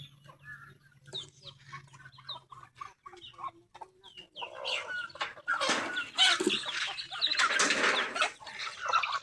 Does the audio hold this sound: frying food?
no